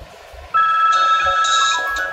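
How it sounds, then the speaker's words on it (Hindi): An electronic ringtone from a hotel desk telephone starts abruptly and keeps trilling steadily, with soft thumps and background noise underneath. "एक साथ चारों में रिंगटोन बनने लगी"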